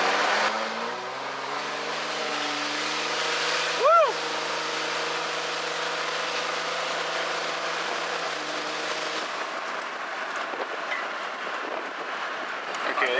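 A diesel vehicle running on Diesel Kleen fuel is held at full throttle, its engine droning steadily with a rising tonal whine and a brief loud surge, heard from inside the cab.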